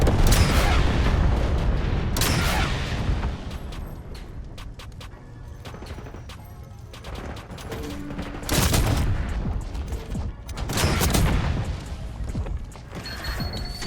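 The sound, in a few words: napalm strike explosions in the video game Black Ops 6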